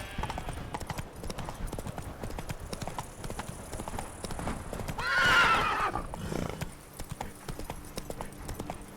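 Hooves clip-clop steadily as the horse Roach trots through The Witcher 3, with a brief loud neigh in the middle and soft game ambience around it.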